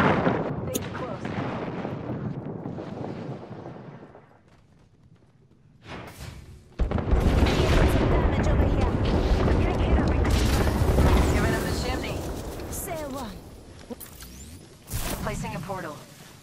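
A grenade in Apex Legends detonates as a loud booming blast amid chaotic gunfire and battle noise, with several hard impacts and people talking over the action.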